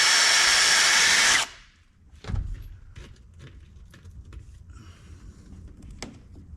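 A rivet gun setting a rivet on a window sweep felt seal on the door of a 1988-95 Chevy Scottsdale truck: one loud sustained pneumatic burst, then a sharp thump and faint handling clatter.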